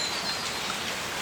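Steady rain falling, a dense even hiss of drops on surfaces throughout, with a faint bird chirp in the background.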